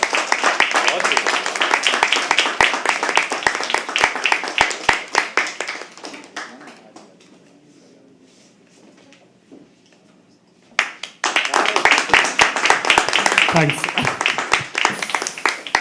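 An open-mic poetry audience claps in a dense burst of applause after a poem. The clapping fades into a quiet lull, then a second round erupts, and a voice briefly says thanks.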